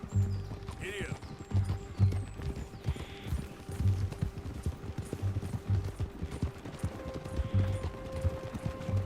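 A horse gallops in the video game Red Dead Redemption, its hooves drumming in quick rhythmic bursts close by, while game sounds and a few faint voices play underneath.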